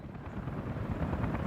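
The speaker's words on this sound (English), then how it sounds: "Lots of helicopters about." Helicopters flying in Workers & Resources: Soviet Republic, a faint steady rotor whir and broadband rumble heard alone for a brief moment.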